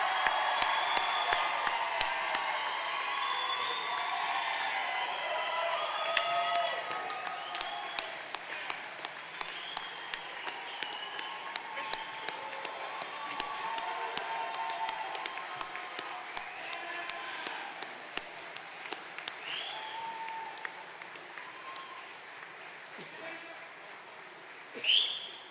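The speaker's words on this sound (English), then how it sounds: "please give a round of applause for all of our graduates" A crowd claps steadily and at length for graduates at a Navy Nuclear Power Training Unit graduation ceremony, with a few whistles and cheers. The applause stays at an even level, thins near the end and stops with a short bump.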